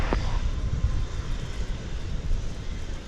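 Boeing 787 Dreamliner pushing back at DFW Airport at night: a steady low airliner engine rumble and hiss, moderately distant, with wind buffeting the microphone.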